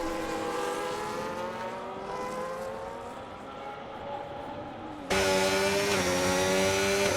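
F1 25 race cars scream down the main straight at Circuit of the Americas, a high whining engine note rising and falling, then a sudden much louder, closer car blasting past at the end.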